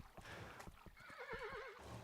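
A tired horse in a video game whinnies with a wavering, quavering neigh after a few hoof clops, faint and alone with no voices.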